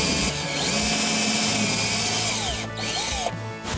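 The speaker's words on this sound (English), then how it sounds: "You have to be careful when you're putting the pin in to get the hole drilled squarely" A power drill whirs loudly and close while boring a hole for a pin in a bighorn sheep horn, running steadily with two brief pauses before resuming.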